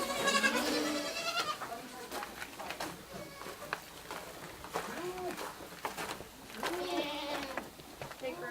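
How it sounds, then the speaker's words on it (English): Baby goats on a goat farm bleat repeatedly in short, wavering cries, several overlapping from close by, with people talking quietly among them. "Look at all these little baby goats."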